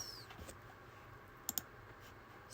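Computer mouse clicks while sewing UV edges in UV Layout software: a quiet room with a brief pair of crisp clicks close together near the middle, otherwise near silence.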